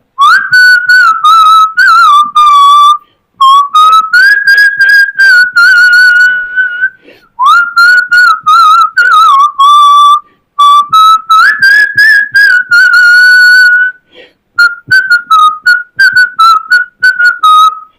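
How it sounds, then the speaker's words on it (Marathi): A person whistles a song alone, a loud clear melody in phrases separated by short breath pauses, close to the microphone. "मी शिट्टीतून गाणं म्हणून दाखवणार"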